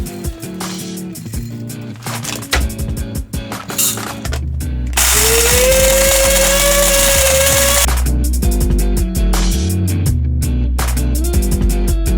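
Coffee grinder working through Induban Santo Domingo beans: mechanical clicking and handling noises, then a loud, continuous whirring burst of grinding lasting about three seconds, followed by more clicks and rattles, close by.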